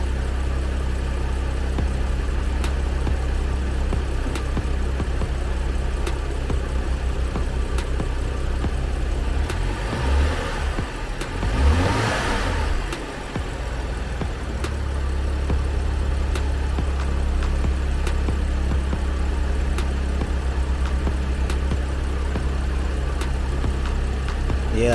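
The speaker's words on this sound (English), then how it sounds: "I'm gonna give it a couple of light revs" A BMW X5 35i engine idles steadily, then swells through a couple of brief light revs before settling back to a low, constant idle; heard close and alone.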